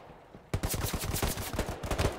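Rapid bursts of gunfire in the World War II shooter Hell Let Loose, starting abruptly with dense, loud automatic shots that keep cracking in uneven rhythm for about two seconds.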